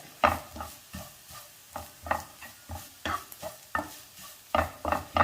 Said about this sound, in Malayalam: ഇനി ഈ തേങ്ങ ഒന്ന് ചുവക്ക വറുത്തെടുക്കണം. കരിഞ്ഞു പോകാതെ തേങ്ങ ഒന്ന് ചുവന്ന് വരണം.